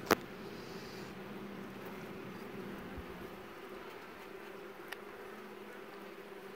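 Honeybees buzzing around hive frames while a queen is introduced, a faint, steady droning hum that starts with a sharp click and continues unbroken.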